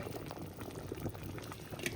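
Broccoli simmers in a large pot of hot noodle soup broth, giving steady close bubbling and gurgling with small pops throughout, no voices over it.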